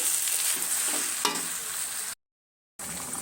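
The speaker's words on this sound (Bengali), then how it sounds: "ডিমটা দিয়ে সুন্দর মতো নেড়ে চেড়ে ভেজে এটাকে একবারে পরিবেশন করব" Noodles and egg sizzle and fry in a pan while a utensil stirs and scrapes through them, a loud close steady hiss with a sharper clack midway, then a brief dropout of silence before the sizzle resumes.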